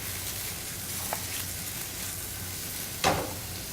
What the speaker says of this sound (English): they're going to season that with a little bit of salt and pepper. And we'll saute this.